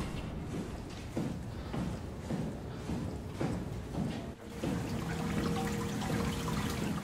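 Water running in within the underwater sci-fi game SOMA, a steady trickling and pouring with irregular splashy pulses, then a fuller continuous flow mixed with a low humming tone, moderately close and with no talk.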